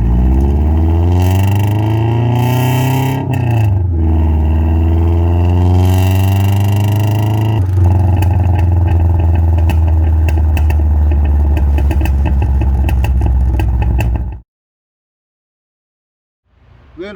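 A shop truck engine runs while the truck is driven, giving a loud, close engine drone that rises and falls with shifts and revs, then cuts off abruptly near the end.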